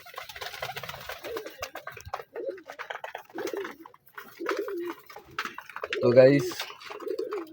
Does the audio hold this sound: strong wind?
no